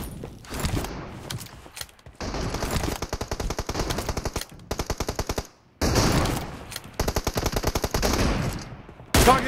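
Rapid automatic gunfire from PUBG Mobile rings out in several long, loud bursts, separated by short pauses and brief quiet gaps, with no one talking.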